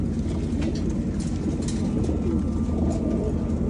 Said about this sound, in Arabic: عقب ما أكلنا الحمام طبعا بعدين شلنا الأكل عنهم، صبينا لهم موية